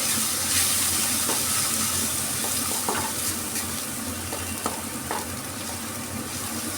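Vegetable curry stirred in a pan after spice-rinse water is poured in, producing a steady bubbling sizzle broken by several scraping spoon strokes.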